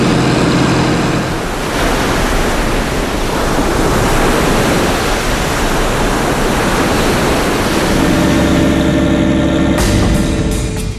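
Heavy, continuous rushing of water and wind, loud and close, as rough sea waves hit a moving boat approaching Sabtang port, with an engine hum underneath.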